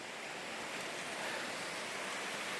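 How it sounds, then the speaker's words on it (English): A creek flows beside a hiking trail on a South Cumberland day hike, its steady rushing wash filling the air as a continuous close, even hiss with no voices. "But we're right beside the river, creek, stream."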